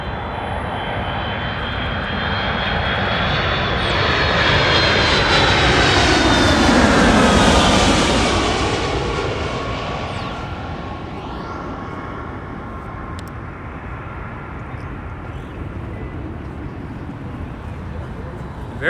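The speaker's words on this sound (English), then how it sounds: "Very heavy flare now as he hovers over the runway to finally touch down on 24 right" A 26-year-old Delta Boeing 757 from Minneapolis landing on runway 24 right at LAX, engine roar swelling as it passes overhead around the middle, then fading into a lower rumble, with someone commentating over it.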